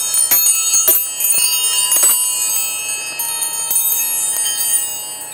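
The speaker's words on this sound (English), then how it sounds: "It's kind of like a space station wind chime." Loose metal sockets from a tool kit clink against each other inside a toolbox bag aboard the International Space Station, giving a repeated bright chiming jingle like wind chimes, close and fairly loud throughout.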